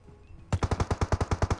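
Rapid automatic gunfire in PUBG Mobile rattles in a steady burst of about a dozen evenly spaced shots after a quiet start, loud and close.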